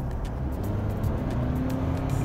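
A Toyota Camry Hybrid XLE accelerates from around 50–60 km/h, giving a steady low engine and road hum with a faint rising drone, heard from inside the car with no talk.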